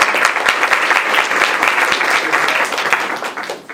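Audience applause fills a lecture hall as a guest speaker for a Middle East update takes the stage, dense steady clapping from many hands lasting several seconds without a break.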